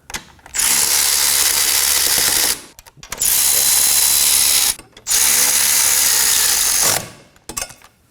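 Power ratchet snugging the axle bolts on a 2016-2020 Kia Sorento 2.4L during a rear CV axle replacement, three loud sustained whirring bursts with brief pauses between, close up.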